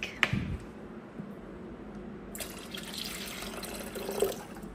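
Water for boiling coffee runs steadily from a tap with a soft trickling hiss, broken by a few small clinks and splashes.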